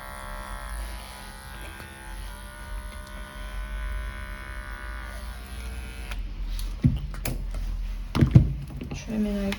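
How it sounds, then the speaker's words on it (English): Electric clippers buzz steadily while trimming the fur under a Persian cat's paw pad during a lion cut, a continuous close hum with a few brief knocks and handling bumps near the end. "Trimming over the bottom of the paw pad."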